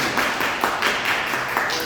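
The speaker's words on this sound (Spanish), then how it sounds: "le damos un aplauso al expositor" Audience applause at a museum talk, a steady patter of many hands clapping close by with no voices over it, continuous for the whole stretch.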